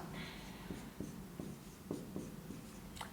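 Chalk or marker taps and scratches on a board during a maths lesson, sounding as a series of short, evenly spaced strokes against a faint room hiss, with no talking.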